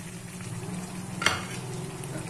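Ginger and green chillies fry in a chicken karahi with a continuous close sizzle and bubbling. A single sharp clatter of stirring lands near the middle, and no one speaks.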